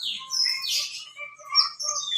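An oriental magpie-robin (kacer) kept as a cage bird gives clear, close, high chirps and short warbled phrases in a quick run, with no talk around them.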